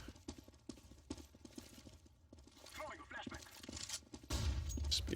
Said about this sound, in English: You can hear the footsteps coming in.